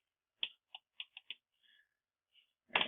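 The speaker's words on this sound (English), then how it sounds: "So we're going to type in Pi" Typing on a computer keyboard during a headless Raspberry Pi setup: a handful of quiet, close keystrokes in a short irregular burst, a pause, then a louder final key press like Enter.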